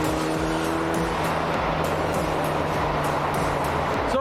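A motorcycle engine revving hard on an Australian road ride, a loud sustained droning roar with rhythmic pulsing throughout, heard up close with wind noise.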